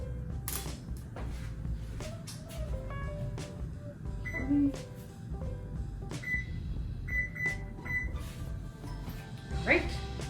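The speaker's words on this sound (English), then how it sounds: "I'm going to heat my oven at 400 degrees" Oven controls beep as the oven is set to preheat to 400 degrees, short electronic tones scattered over a busy kitchen, with someone talking throughout.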